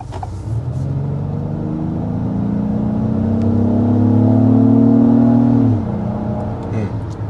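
A 2024 Acura MDX engine accelerating, a smooth rising drone that climbs steadily for several seconds, then drops abruptly as it shifts or lifts, heard from inside the cabin with low road rumble beneath.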